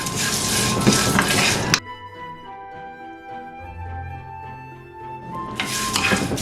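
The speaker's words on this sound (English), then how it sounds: "So I have been dry roasting it, stirring it every 5 seconds for about 7 minutes." A spoon scrapes and stirs curry spices dry-roasting in a pan for crab curry: two loud, gritty bursts of close scraping at the start and end, with a quieter stretch between.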